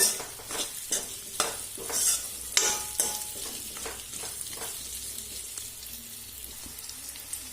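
Onions frying in a pan crackle and sizzle as a spoon stirs them, with clustered scraping strokes early on and a softer steady sizzle continuing afterward, close and moderately quiet.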